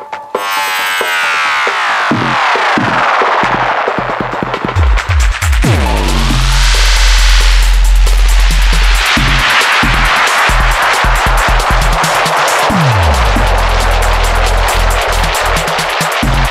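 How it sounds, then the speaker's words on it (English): A loud, dense electronic mix through a Pioneer DJM-900 Nexus mixer's spiral effect warps through swooping, spiraling echo repeats that rise and fall in pitch, smearing the beat into a churning, feedback-like wash. "So the spiral is like a tape delay that's gone bananas,"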